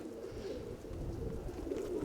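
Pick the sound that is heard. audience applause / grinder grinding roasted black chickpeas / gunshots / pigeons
pigeons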